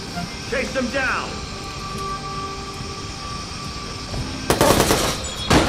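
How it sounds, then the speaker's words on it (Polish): Gunfire from a headshot in the PS4 game Watch_Dogs: a sudden loud burst of rapid shots near the end, over a steady hum of game ambience, with someone talking. "Strzał w główkę, pięknie"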